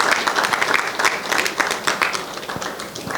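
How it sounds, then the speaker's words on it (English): A warm round of crowd applause at the Quickmed Araya launch event, close and loud, with individual sharp claps standing out in a brisk, uneven rhythm across the whole stretch. "Shall we give him another warm round of applause?"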